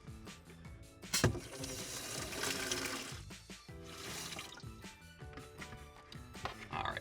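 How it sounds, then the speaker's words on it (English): Water flushing through the supply lines of a Delta Broderick bridge faucet into a bucket, a continuous rushing splash with thumps and knocks, faint and fairly close, no talk. "we're going to flush the line for about 30 seconds"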